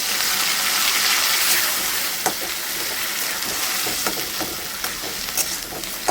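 Onion and garlic paste fries in hot oil with dried chilli and nigella seeds, a steady close sizzle with occasional stirring clinks, no talk.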